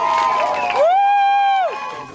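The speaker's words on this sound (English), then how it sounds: "the cheers of the dockside crowd" A dockside crowd cheers the winner of a yacht race at night, one loud sustained whoop rising over the general crowd noise, then fading.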